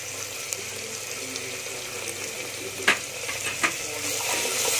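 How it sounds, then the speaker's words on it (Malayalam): Carrots sautéing in a pan while masala rice cooks, a steady soft sizzle with faint stirring scrapes and two brief sharper clinks of a spoon against the pan, close and alone without talk. "ഇനി നമുക്ക് ക്യാരറ്റ് ഇട്ട് കൊടുക്കാം."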